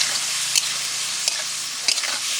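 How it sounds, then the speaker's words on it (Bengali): Shrimp frying in hot oil with turmeric and a little salt, a continuous bright sizzle with a few sharper crackles and stirring scrapes, close up and without speech. "তার জন্য চিংড়ি মাছটা প্রথমে ভেজে নেব।"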